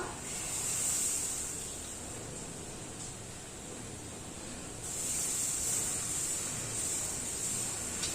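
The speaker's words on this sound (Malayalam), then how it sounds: "ഇനി നമുക്ക് മാവ് ഒഴിച്ചു കൊടുക്കാം." Dosa batter poured onto a hot pan sizzles with a soft, steady hiss that eases slightly, then swells again midway and carries on close and alone.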